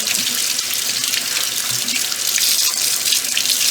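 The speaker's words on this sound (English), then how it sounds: "I like to get them wet, and then I come in and I scrub them really, really good" Tap water runs steadily into a sink as potatoes are wet and scrubbed by hand, a continuous close splashing hiss with no voices.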